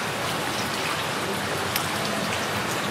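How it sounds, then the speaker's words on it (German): Steady light rain patters continuously on surfaces in a parking garage, an even hiss with occasional sharper drops, no voices. "Leider regnet es aktuell ein bisschen"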